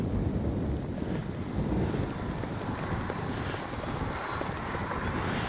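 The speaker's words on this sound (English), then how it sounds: "There again, it is awfully windy." Strong, steady wind roars across an RC plane flying field, buffeting the microphone in a constant low rumble that stays loud and unbroken throughout.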